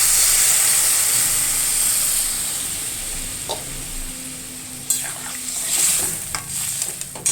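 Water goes into a hot pan of spiced curry with drumsticks and potato, setting off a loud hissing sizzle that slowly settles, followed by a few scraping stirs and clinks.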